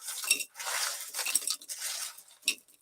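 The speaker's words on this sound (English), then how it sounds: "in this cup, I'm going to put a whole bunch of crushed ice cubes" Crushed ice cubes poured into a cup, a close, soft series of crunchy clinks and rattles in short bursts.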